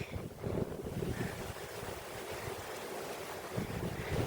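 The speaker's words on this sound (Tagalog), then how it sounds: "sobrang hangin" Strong, cold wind on Lantau Peak, Hong Kong, roars continuously against the microphone, rumbling and buffeting in gusts with a broad rushing hiss, no voices.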